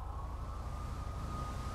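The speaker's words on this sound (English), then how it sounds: "I can hear a bunch of sirens" Police sirens in a Dept. of Justice Cops roleplay, a steady wailing tone heard from a distance over a constant low engine rumble, with no talking.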